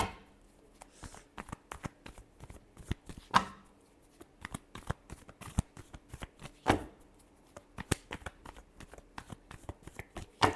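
A deck of tarot cards shuffled close up, with repeated crisp riffling and flicking bursts in a steady rhythm, several short pauses between rounds, no talking.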